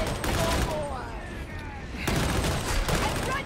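Sustained autogun fire in Warhammer 40,000: Darktide, rapid continuous bursts filling the clip with dense, loud crackling.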